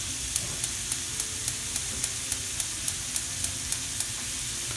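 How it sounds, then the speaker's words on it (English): Minced lamb sheek kebab sizzles in a pan on low heat, a steady close frying hiss with faint regular ticking clicks repeating about twice a second throughout. "let that just sizzle away"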